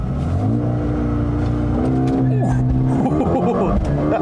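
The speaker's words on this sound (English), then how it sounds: "floor the brake and the accelerator, let the revs build up" A 2020 Mercedes-AMG CLA 35 with a 302 hp engine is held on the brake and throttle for a launch start, its engine revving loud and steady up close before the pitch climbs and wavers as the car pulls away.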